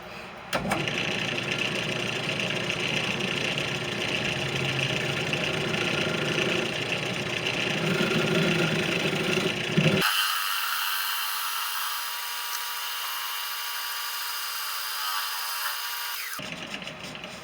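A wooden bowl spins on a lathe while being rounded off and having a tenon cut, a steady whirring motor hum with tool-cutting noise that drops off abruptly partway through, leaving a thinner hum before resuming.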